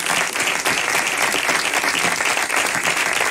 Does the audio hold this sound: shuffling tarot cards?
no